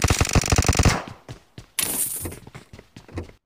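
Gunfire in the BGMI mobile battle royale game: a rapid, loud automatic burst of about ten close shots, followed by scattered single shots and clattering impacts.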